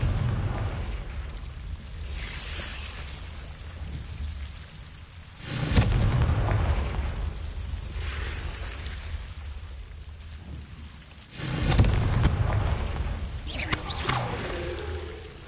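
Two Confringo spell explosions go off in a video game, deep rumbling blasts about six seconds apart that rise out of a steady hissing background and slowly fade.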